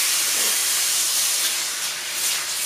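Chicken meat sears in a hot wok with a steady, loud, bright sizzle and hiss that carries on evenly at close range, with no talking over it.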